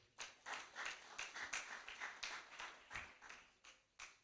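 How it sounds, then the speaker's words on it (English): Applause from an audience at an estate management alumni reunion and send-off event, a steady run of dense hand claps lasting several seconds at moderate distance. "Another round of applause for him."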